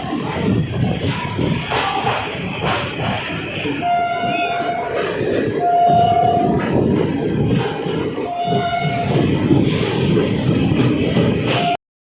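Amritsar-Haridwar Jan Shatabdi Express at Jalandhar City Junction station, running late after a track break: steady rumbling rail noise with repeated horn tones near the middle, crowd murmur and some talk around it.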